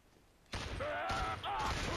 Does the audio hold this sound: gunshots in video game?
yes